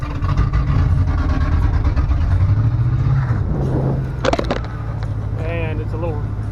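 A junkyard LS V8 engine runs a little rough, with a loud, low, uneven rumble. Background voices and a few sharp clanks are heard, and the engine idle settles lower toward the end.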